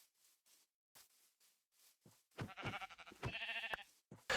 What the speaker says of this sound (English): I do, however, choose to spare the sheep as it has a baby with it